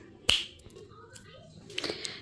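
A single sharp finger snap rings out close and crisp near the start, followed by quieter room rustle and a few soft clicks.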